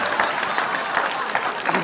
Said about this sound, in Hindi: एक बार जरा दोनों ही ताली बजाओ